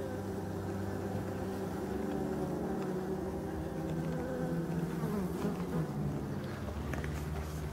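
Black forest bees swarm at a hive entrance set in a tree, a dense, steady buzzing drone that is close and continuous throughout.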